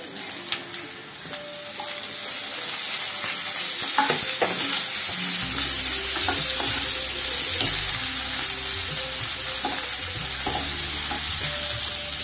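Okra hits a hot pan for masala bhindi, and loud, continuous sizzling frying follows. Stirring scrapes and clatters on top of the sizzle, and no one talks.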